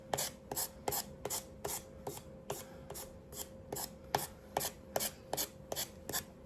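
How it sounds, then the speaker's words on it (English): Edges of a gingerbread craft piece are sanded by hand in quick, evenly spaced rasping strokes, about two per second, close and moderately quiet with no talking. "I'm just sanding those two edges."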